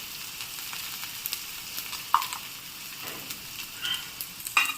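A spoonful of ground coconut, garlic and ginger paste sizzles in hot oil with tomatoes while cooking drumstick fry, a steady close frying hiss with a few small pops and spatters, no voices.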